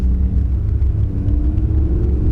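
A 2018 Audi R8 naturally aspirated V10 in dynamic mode gives a loud, steady deep exhaust rumble, close up and sustained without any break.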